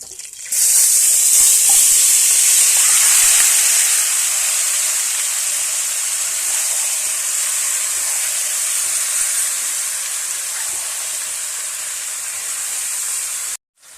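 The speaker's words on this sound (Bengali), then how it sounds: "এবারে আমি ম্যারিনেট করা মাংসটা এর মধ্যে দিয়ে দেবো" Marinated chicken pieces dropped into hot oil with whole garlic cloves, for chicken dak bungalow curry, set up a loud, steady, close sizzle and hiss that carries on unbroken with no voices.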